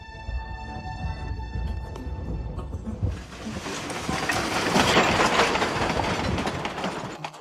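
A train on the Silverton and Durango narrow gauge railroad in Colorado rumbles steadily with a continuous rolling clatter, growing louder and denser midway, with tonal hums early on and no talking.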